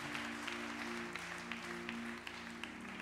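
A church congregation claps together in a steady, dense wash of applause, fairly loud and sustained throughout, with a low tonal hum running underneath.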